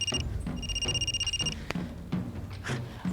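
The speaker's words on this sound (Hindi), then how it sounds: "फोन आ रहा है किसी" A telephone rings with two bursts of rapid, trilling electronic tones, then stops as soft movement and background noise continue.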